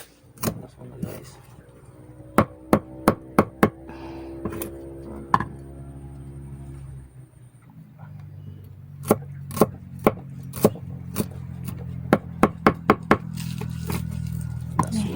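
Onion is chopped with a knife on a board: sharp, close knocks come in quick bursts of several strokes, with pauses between them, over a low background hum.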